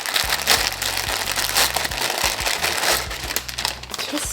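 A parcel being unwrapped: plastic packaging crinkles and crumples loudly and continuously up close, with sharp rustling bursts and no talking.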